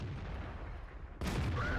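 A T-54 tank fires its main gun in World of Tanks on a snowy Himmelsdorf city map, one sudden loud blast that lands after a stretch of low battlefield rumble and then holds as a sustained roar.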